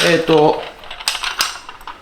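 A voice speaks briefly, then small ceramic dishes clink together in a few light, close taps.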